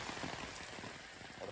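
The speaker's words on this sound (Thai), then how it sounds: "มื้อนี้ก็ฝนค่อนข้างตกแห้ง" Heavy rain during a storm in Vang Vieng, falling steadily on surfaces as a dense, constant patter, with faint talk mixed in.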